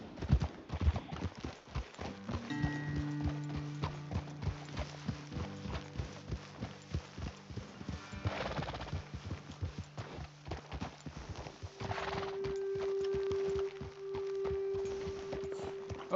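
Horses walking with hooves clip-clopping in a steady rhythm in the Red Dead Redemption 2 video game, soft and moderately close, with game ambience and a sustained tone underneath.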